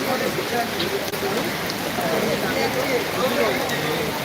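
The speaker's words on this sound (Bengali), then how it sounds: "বৃষ্টি বিঘ্নিত জোর বৃষ্টি শুরু হয়েছে" Steady, dense heavy rain hiss at an outdoor Durga Puja gathering at Belur Math, a continuous broadband wash with faint voices murmuring underneath.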